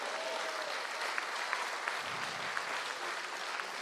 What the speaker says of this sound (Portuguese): Você pode dar uma salva de palmas por isso?